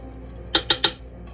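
A metal spatula scrapes cream of mushroom soup from a can in three quick, evenly spaced sharp scrapes and clinks, close and crisp over a quiet room hum.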